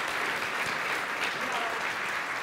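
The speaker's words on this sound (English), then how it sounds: "So if you could join me in one last round of applause for our two panelists." Conference audience applauding two panelists at the close of a session, dense steady clapping filling the whole short span at an even level.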